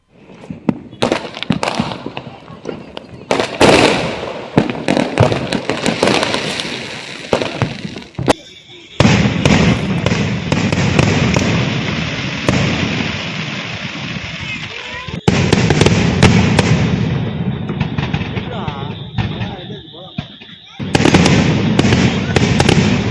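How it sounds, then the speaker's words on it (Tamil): Diwali fireworks over Sivakasi burst and crackle in long, dense volleys, with sharp pops and sustained sizzling crackle, loud and continuous with brief lulls between barrages. "இரவு வான வேடிக்கைகள் சிவகாசி நகரை வண்ணமயமாக்கியது"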